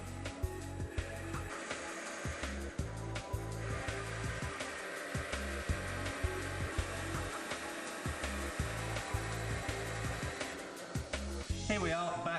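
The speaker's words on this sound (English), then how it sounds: "Now back to the bandsaw. Back to the bandsaw. For some accurate cutting." Steady machine drone of a bandsaw cutting English oak for garden bench legs, loud and continuous with rhythmic low pulsing throughout and a brief change near the end.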